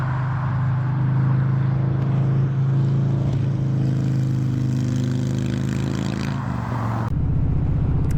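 A Harley-Davidson motorcycle's exhaust rumbles loud and close on a coastal ride, a steady deep engine drone that holds for several seconds, then drops in pitch as the bike passes, with wind noise throughout.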